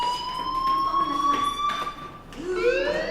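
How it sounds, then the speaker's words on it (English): A fire alarm rings in the video game Life is Strange, a loud steady electronic tone with a sweeping siren-like pitch that bends and restarts near the end, alone without talk. "do you hear that fire alarm?"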